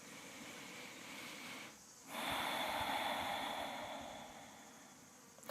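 Deep, slow breathing during a seated yoga twist stretch, with a long airy inhale or exhale swelling and then fading, close and soft against a quiet room, with no talk.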